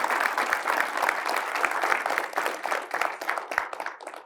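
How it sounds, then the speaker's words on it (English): A podcast audience breaks into applause, a dense, even wash of many hands clapping that holds steady with a few sharper claps standing out. "Can we have a huge round of applause?"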